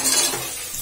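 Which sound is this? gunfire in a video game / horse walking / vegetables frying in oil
vegetables frying in oil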